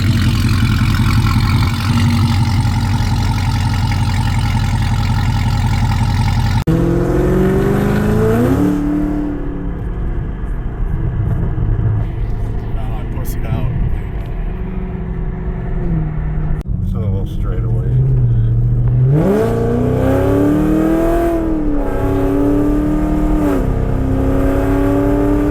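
A 2023 Blackwing with a freshly installed Magnuson 2650 supercharger revs loudly outdoors, the engine climbing and falling through several throttle blips with a rising supercharger whine, close and dominant, with voices mixed in under it.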